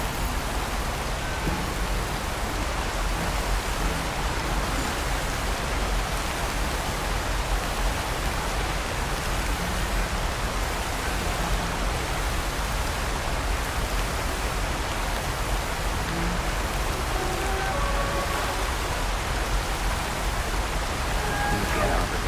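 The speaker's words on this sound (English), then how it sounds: "I'm gonna catch something in this downpour." Heavy rain pours in the video game Horizon Forbidden West, a dense, unbroken hiss of downpour at a constant loud level, with faint game tones occasionally surfacing beneath it.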